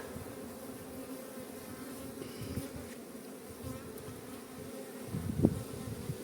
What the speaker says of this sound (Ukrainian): Ось на шліфовку рамочка, бджоли там порядок наводять.